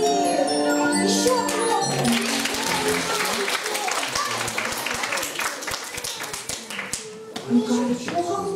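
Kindergarten children at a New Year celebration clap in a dense, lively burst of rapid hand claps, loud and sustained over background music and chatter.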